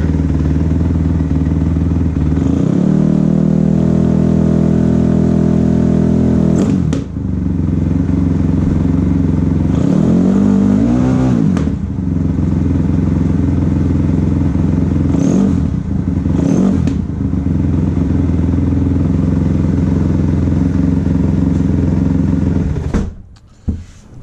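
A 2007 Kawasaki KX250F dirt bike engine with a lean bog off idle, revved repeatedly in short bursts over a loud, close steady idle, several throttle blips rising and falling before it shuts off at the end.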